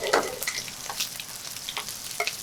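Shrimp and bacon frying in a pan, a soft crackling sizzle with scattered pops and stirring scrapes, fairly quiet and close, with no talking.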